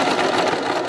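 A sewing machine stitches a bag strap in place, its motor running as a steady, loud, close whir throughout the short burst.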